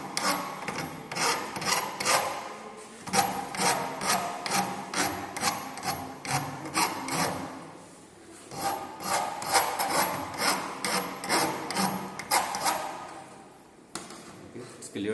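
Hand filing puts a slight chamfer on the edge of a galvanized iron pipe, heard as repeated rasping strokes in a steady back-and-forth rhythm. The strokes are close and clear, with short pauses between runs.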